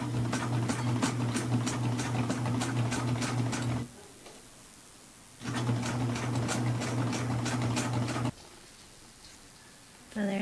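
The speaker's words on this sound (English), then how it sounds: "I'm going to sew the face on." A sewing machine stitches a face onto a sketchbook cover, running in two steady bursts of rapid mechanical chatter separated by short pauses, close and fairly loud.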